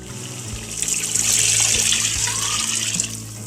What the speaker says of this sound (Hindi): अब इसमें हम यखनी शामिल करेंगे।